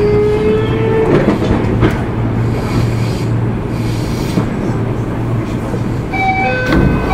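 A Toei 6300 series train rumbles loudly along the rails close by, steady mechanical roar with squealing tones and rhythmic clatter, no talking.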